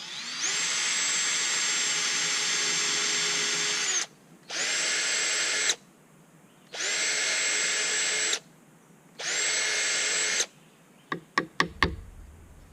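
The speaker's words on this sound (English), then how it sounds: "We'll take the drill and get us another hole up here." A power drill whirs loudly in four sustained bursts with short pauses between, drilling holes in wood for a curtain rod, followed by a few sharp knocks at the end.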